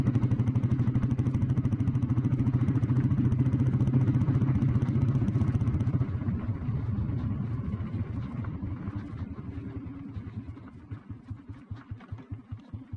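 An old petrol Royal Enfield Bullet motorcycle cruising in top gear, its engine a steady loud thump that eases off after about six seconds into a slower, uneven beat as the bike decelerates.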